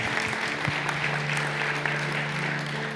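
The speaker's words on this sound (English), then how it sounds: "Can I just give them a massive round of applause?" An audience at an inclusion conference keynote claps in a continuous, moderately loud patter, with a low steady hum beneath it.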